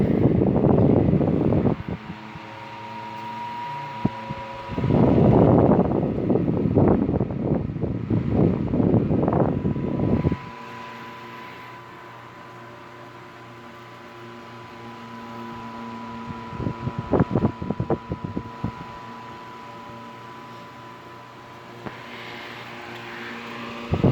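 A 1950s Polar Cub desk fan hums steadily while loud rushes of air and handling noise come in bursts up close, then it settles to a quieter mechanical drone with a few clicks.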